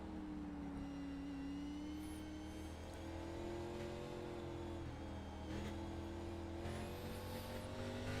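An Xfinity Series race car engine holds a steady, sustained drone through a turn, the pitch sagging and rising slightly, with a faint tire squeal and no speech.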